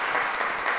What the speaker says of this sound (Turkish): Alkışlıyoruz mucitleri.